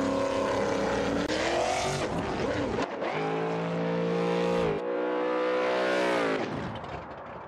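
A drag race car in the video game BeamNG.drive revs hard during a half track burnout, its loud engine screaming and climbing in pitch, cutting off, then roaring again before fading slightly at the end.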